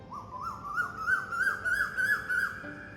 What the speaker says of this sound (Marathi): हा आवाज ऐकताय का तुम्ही कोकिळेचा?